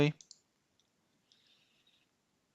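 A single computer mouse click sounds sharp and close at the start, then only quiet room tone follows.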